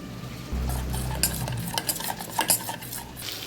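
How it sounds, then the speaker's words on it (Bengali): Spices fry in a pan while a utensil stirs and scrapes, a low rumble of heat underneath brief, irregular metallic scrapes and clinks, close and fairly loud over a few seconds. "আর 1 মিনিট মতন ভেজে নেব।"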